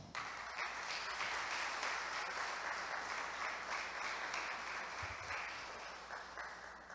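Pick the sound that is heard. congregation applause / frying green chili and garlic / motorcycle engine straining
congregation applause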